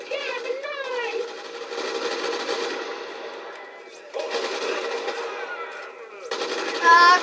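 Gunfire in the Crackdown video game comes as rapid, repeated automatic bursts, with brief pauses between volleys and a voice heard talking over parts of it.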